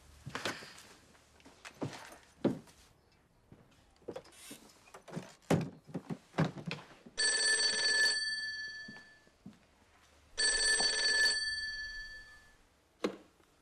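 A home telephone rings in two long electronic bursts with a pause between, preceded by soft indoor movements and faint sounds, no voices.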